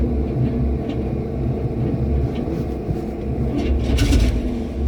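A car engine's starter cranks slowly on a low battery, a steady, labored low rumble that swells slightly toward the end, heard close with no speech over it.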